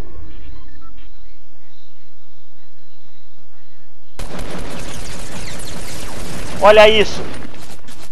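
A silenced SMG fires a burst of gunshots in the Fortnite video game, close and fairly loud after a silent stretch, with a man exclaiming over the game sounds.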